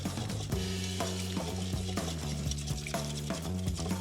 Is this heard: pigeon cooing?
no